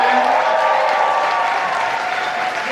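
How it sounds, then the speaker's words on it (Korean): Sustained audience applause at a Korea–Japan friendship concert marking 60 years of diplomatic ties, a steady dense clatter of many clapping hands filling the hall evenly throughout. "다음 선생님께 큰 박수 부탁드리겠습니다"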